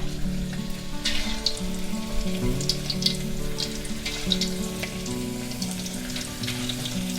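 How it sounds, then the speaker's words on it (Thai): Steady, loud sizzling of pork pieces frying in hot oil, crackling continuously throughout with a low hum beneath. "พอน้ำมันร้อนดีแล้วนะคะ ก็ให้เรานำหมูใส่ลงไปได้เลยค่ะ"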